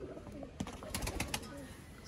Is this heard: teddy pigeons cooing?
yes